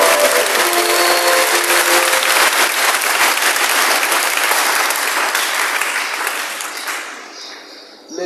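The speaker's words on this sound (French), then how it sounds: "nous allons acclamer très fort" Church congregation at a Mass applauding loudly, a dense wash of clapping and cheering that holds strong for several seconds before tapering off toward the end.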